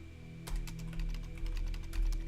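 Keys clatter on a computer keyboard during play of the text adventure Stories Untold, a quick run of sharp taps over a low steady hum, close by, with no speech.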